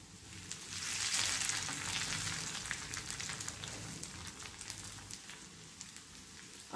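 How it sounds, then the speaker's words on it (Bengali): Garlic and ginger fry in a pan with a dense, crackling sizzle that swells early, then settles into a steady hiss with scattered pops. The sound is close and fairly quiet, and no voice is heard. "ওতে রসুন আর আদাটা আমি ভেজে নেব।"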